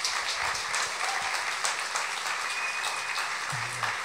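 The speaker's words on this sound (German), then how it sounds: "Einmal vielleicht ein Applaus für Rudi Dutschke an der Stelle." A live audience applauds at a public conversation event about art and political stance, a steady, dense wash of clapping that runs unbroken throughout.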